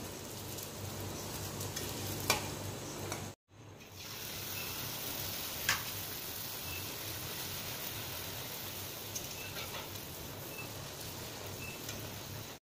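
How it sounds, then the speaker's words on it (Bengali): Luchi puffed bread deep-frying in hot oil in a home kitchen gives a steady, close, hissing sizzle with a few sharp ticks. The sound cuts out for a moment and then returns. "এই দেখো লুচিগুলো সব ভেজে নিচ্ছি, আর কয়টা ভেজেছি, আর এই তো ভাজা চলছে।"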